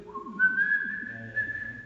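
A person whistles a hymn melody, a clear sustained tone gliding upward and holding steady, close and alone over faint background murmur.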